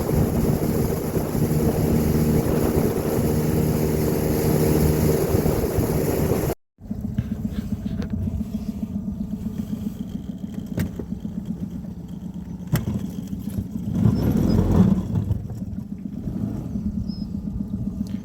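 A steady, loud boat engine drone rumbles continuously, cuts out briefly, then returns as a lower churning motor with wind buffeting the microphone; no talking.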